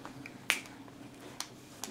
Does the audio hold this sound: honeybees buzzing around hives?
no